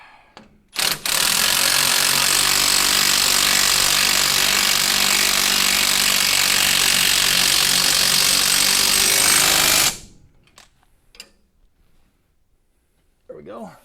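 A rattling power tool drives bolts on a garage project, running in one loud, steady burst of roughly nine seconds before cutting off, followed by quiet shop sounds and a few clicks.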